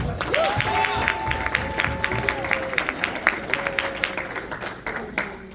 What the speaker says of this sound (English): For the freshmen, a nice round of applause.